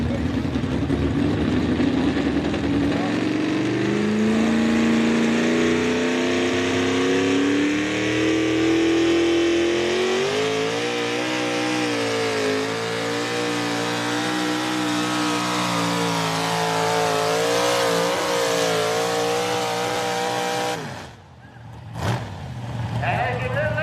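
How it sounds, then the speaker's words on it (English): Small-block Chevy V8 in a John Deere 4020 tractor nicknamed the Gambler, pulling at a mini tractor pull in Millers Tavern, Virginia, roars steadily as its pitch climbs through the run, then cuts off abruptly near the end, with an announcer talking over it. "Kevin English, Tappahannock, Virginia, with the tractor he calls the Gambler, a 4020 John Deere with a small block Chevy engine."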